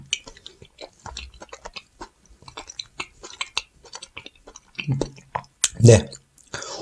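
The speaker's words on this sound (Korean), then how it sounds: "그러면 먼저 요 2시간만 해동을 한 걸 먹어보도록 하겠습니다." Close, wet chewing of thawed bluefin tuna sashimi, with soft squishing and biting bursts. A quieter run of mouth sounds comes first, building to a louder burst near the end, with no talk over it.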